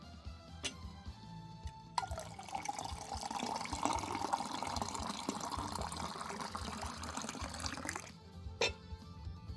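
Water pours steadily from a household water filter into a container for several seconds, a continuous splashing fill that starts abruptly and stops cleanly, with a few faint drips before and after.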